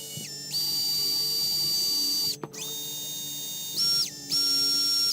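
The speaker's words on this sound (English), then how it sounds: "While we have the drill out, we're going to remount the inside of the wheels." A small high-pitched rotary drill whines steadily while cleaning 1/64 scale model trailer parts, pausing briefly and shifting pitch as it spins up and down, with no talking.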